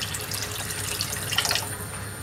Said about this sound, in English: A bit more cold water.